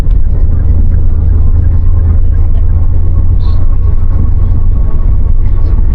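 Car overtaking on a road between Cikarang and Puncak Bogor, heard from inside as a loud, steady engine and road rumble that holds throughout without clear changes.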